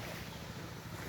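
Ocean waves at the shore of a beach on Pulau Panjang in West Sumatra, a continuous broad wash of surf with wind noise, steady and fairly loud.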